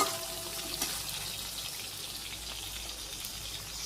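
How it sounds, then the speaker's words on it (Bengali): Fish sizzles and spits in hot oil in a pan while being fried for a Bengali fish curry, a steady broadband hiss with faint crackles throughout, close and moderately loud with no talk. "মাছগুলো হাত দিয়ে ছেড়েছি, আর এখানে একটা ওখানে একটা। এবার ঠিক আছে, মাছের ঝোল বানাবো।"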